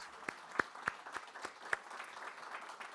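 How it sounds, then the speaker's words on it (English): Sparse applause at a school board meeting: a handful of separate claps, fairly faint and uneven, with some low room murmur behind them. "So yes, big round of applause."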